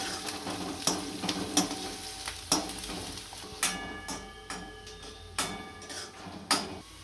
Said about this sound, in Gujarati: આની અંદર કાપેલા કાંદા નાખીશું। આ બધી વસ્તુને આપણે 2 મિનિટ સુધી સળવા દઈશું।